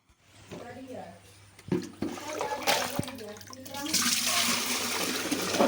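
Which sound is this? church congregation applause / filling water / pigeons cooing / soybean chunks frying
filling water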